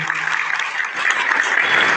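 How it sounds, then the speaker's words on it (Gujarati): An audience at a farmers' meeting in Degam village, Porbandar, claps to welcome Paresh Goswami, a dense, loud burst of applause from a crowd that swells slightly toward the end. "આપણે પરેશભાઈને ફરી એક વખત તાળીઓના ગડગડાટથી વધાવી લેવું"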